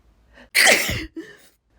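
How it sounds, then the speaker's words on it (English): A single induced human sneeze, close and sharp, with a short inhaling buildup and a brief trailing breath afterward. "I have to sneeze right away."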